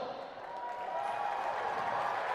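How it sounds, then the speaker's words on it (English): Steady crowd noise fills an indoor basketball arena during a Hawkes Bay Hawks versus Nelson Giants game, a continuous broad roar with murmuring voices and faint cheering at moderate distance. "You got some noise from the crowd"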